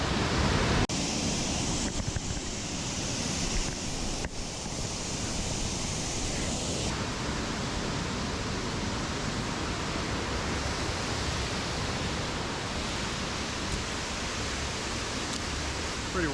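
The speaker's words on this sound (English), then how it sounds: "Pretty waterfall." A waterfall along a hiking trail roars as a steady, broad rush of falling water, loud and unbroken, with some wind buffeting the microphone early on.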